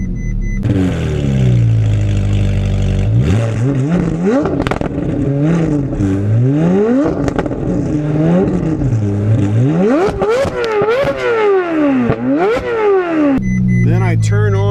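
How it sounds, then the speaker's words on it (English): A Ferrari 458 Widebody fires up with a loud low rumble, then a run of sharp throttle blips rises and falls in quick rhythmic revs before settling back to a deep idle, close and dominant with faint talk nearby. "I put the key in the ignition here, turn on, and power the engine up."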